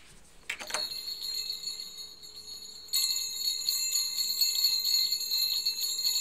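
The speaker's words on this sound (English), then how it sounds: "Wait, I gotta ring in the bells." Jingle bells ring and shake beside a new white Christmas tree, a bright tinkling that starts after a soft bump and grows louder and denser in the second half, sustained with no talking.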